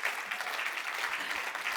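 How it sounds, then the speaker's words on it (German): Audience at the Otto Brenner Prize ceremony breaks into a brief burst of steady applause, moderately loud and dense, lasting under two seconds. "Und nun, einmal kurz Applaus."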